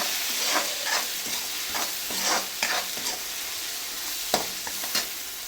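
Turmeric powder stirred into a frying tomato mixture, a constant bright sizzle with a series of soft scraping stir strokes spaced about a second apart, close and with no voices.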